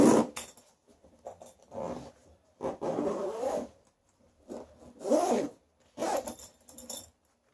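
Zipper on an Avalon Tec One bow case pulled in a series of short rasping strokes, close and moderately loud, with brief pauses between each pull.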